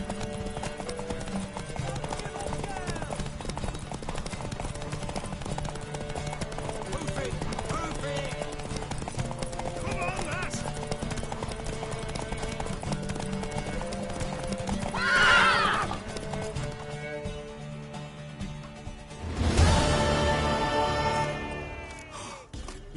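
In The Witcher 3 video game, hooves clip-clop in a steady rhythm throughout while a galloping horse lets out two loud whinnies, one midway and one near the end.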